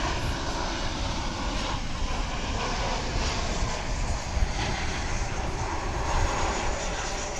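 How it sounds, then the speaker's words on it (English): An American Airlines jet on arrival at DFW International Airport, flight 1019 from Los Cabos, Mexico, makes a steady, loud engine roar that holds evenly throughout, with gusting wind buffeting the microphone. "That's American Flight 1019 arriving from Los Cabos in Mexico"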